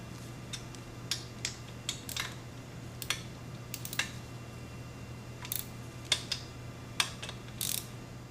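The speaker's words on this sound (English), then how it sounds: "So next you want to tighten down the header bolts." Exhaust header bolts being tightened while installing a Yoshimura RS2 exhaust on a Kawasaki Z125 Pro motorcycle, giving a series of short, crisp ratchet clicks in uneven bursts over a steady low hum.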